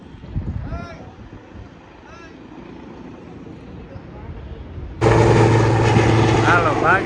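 A helicopter flies overhead, starting as wind and voices and then breaking into a sudden, loud, close rotor roar for the last couple of seconds.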